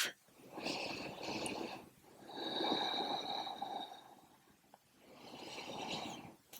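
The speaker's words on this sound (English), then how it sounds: "Nice full breath." Slow, deep breaths during a yoga stretch: three long, soft airy inhales and exhales in a steady rhythm, close and quiet, with no talking.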